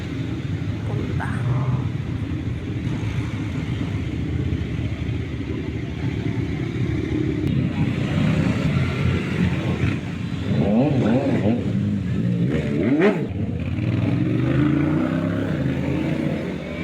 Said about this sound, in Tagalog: Ang daming motorist, mga wow, lalaki ng kanilang mga motor.